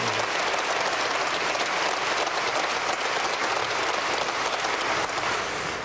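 Sustained audience applause fills a high school commencement crowd in Billings, a dense, steady wash of many hands clapping at even loudness with no talk over it.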